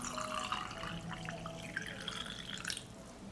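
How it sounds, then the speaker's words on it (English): Hot water poured from a tap or kettle into glass jars holding vinegar and salt, a steady close watery splash with rising pitch as the jars fill, no talking. "I'll fill the jars with hot water."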